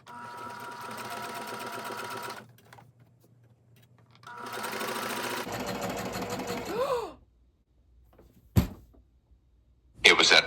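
A domestic sewing machine runs gathering stitches along a fabric ruffle in two steady whirring bursts, close and clear, followed by a groaning voice and sharp knocks.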